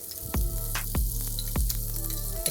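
Chopped onion and garlic sizzle in hot oil in a professional kitchen, a steady moderate hiss broken by a few sharp knocks, with no voices.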